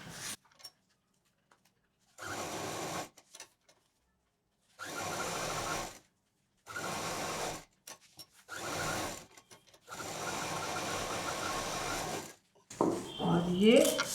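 A sewing machine stitches through the layered lining and packing sheet of a patchwork shoulder bag, running in about six steady bursts of one to two seconds separated by quiet gaps, with a voice speaking near the end.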